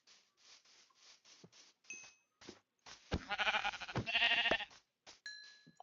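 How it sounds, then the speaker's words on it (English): Minecraft-style sheep in a survival game bleating in short, quavering calls, with a louder wavering bleat in the middle, among quiet clicks and chimes. "Hey, look at that. Two sheep."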